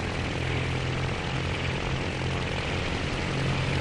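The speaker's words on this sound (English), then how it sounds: "We start gradually increasing our throttle to bring our airspeed up for takeoff." Propeller engines of a Gotha G.V bomber in a flight game build steadily for takeoff, a dense, continuous drone with a low throbbing hum, loud and close, with no voices.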